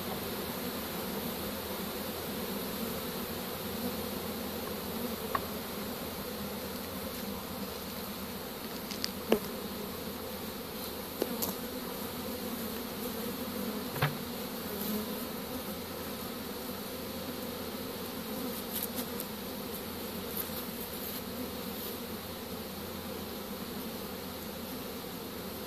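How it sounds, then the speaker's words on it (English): A honey bee swarm being captured with a pole bucket, giving a dense, steady buzz that holds for the whole stretch, with a few louder bees passing close and no talking. "You can see all the bees coming in."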